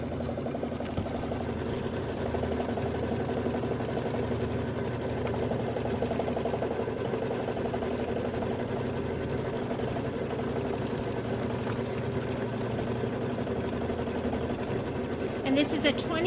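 A Kimberbell embroidery machine stitches out a watermelon mini quilt block, a steady, moderately loud mechanical hum and rapid needle chatter that runs continuously without a break.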